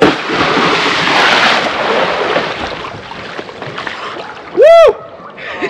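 A person in a drysuit jumps into cold winter water beside a fishing kayak, a loud, close churning splash and rushing water that slowly subsides, followed by a brief vocal cry.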